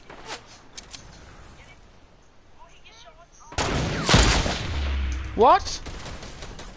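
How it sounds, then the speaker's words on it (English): Gunfire strikes the player in a multiplayer shooter, arriving as a sudden loud burst of shots after quieter game ambience, with a brief voice heard before it. "I'm getting shot from everywhere."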